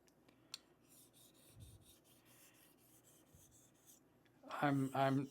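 A straight razor from Geneva Cutlery strokes across a new coticule hone with slurry, giving soft repeated rubbing and rasping passes that are faint and close, before a voice starts talking at the end.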